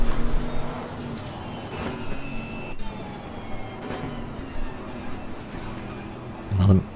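Mercedes-Benz race car in Assetto Corsa Competizione, its engine droning with a sustained tonal note that shifts pitch as the revs change, with a brief louder burst near the end.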